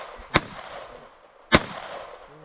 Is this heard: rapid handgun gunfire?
yes